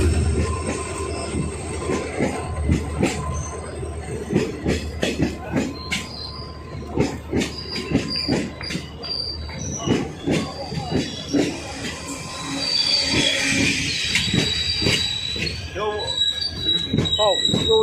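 A train passes through a station with loud clattering wheels on the rail joints and sharp, high squeals of wheels on the track, heard close by with voices faintly underneath.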